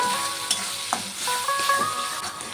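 Chili, soy and tomato sauces cook in a pan for egg chili, giving a steady close sizzle with a few light stirring scrapes and taps.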